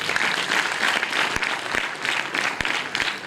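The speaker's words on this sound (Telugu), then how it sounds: "వాళ్ళందరూ గట్టిగా చప్పట్లు కొడదాం" Loud audience applause fills a Christian prayer meeting in Gollapally. A crowd claps steadily and densely for a few seconds, with no voices heard.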